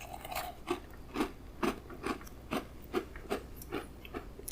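Someone bites into and chews a sugary, somewhat crunchy oatmeal raisin cookie from an MRE ration. About ten close, quiet crunches come in a steady rhythm with no talking.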